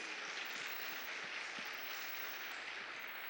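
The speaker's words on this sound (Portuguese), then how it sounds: "aplaudam ao Senhor" A church congregation applauding during a service, a dense, even wash of many hands clapping, steady and somewhat distant throughout.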